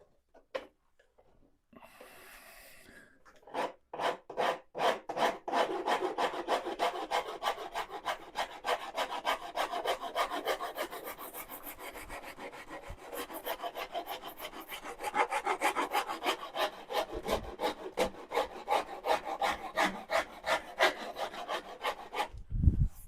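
A rasp files the wood of a guitar neck in quick, rhythmic back-and-forth strokes, a close dry scraping that keeps a steady pace for about twenty seconds after a few slower opening passes.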